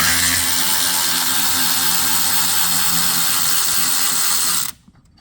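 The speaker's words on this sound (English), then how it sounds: "let's undo the battery clamp." A power tool or ratchet loosens the battery clamp on a Toyota Kluger U40 with a 3.5L petrol engine, a steady close whirring rattle running almost five seconds before stopping abruptly into near silence.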